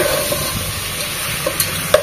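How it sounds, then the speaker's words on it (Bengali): Beef and potato pieces frying in ghee for a Peshawari beef dish while being stirred, a steady close sizzle with a few sharp scraping clicks from the stirring, no voices. "খুব ভালোভাবে নেড়ে চেড়ে 5 থেকে 7 মিনিট মাংসগুলোকে ভেজে নিতে হবে ঘিয়ের মধ্যে"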